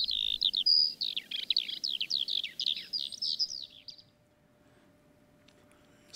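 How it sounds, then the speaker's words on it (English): A skylark sings a rapid, high, twittering run of bright chirps and trills for about four seconds, clear and fairly close, then stops, leaving quiet outdoor air. "it was the skylark"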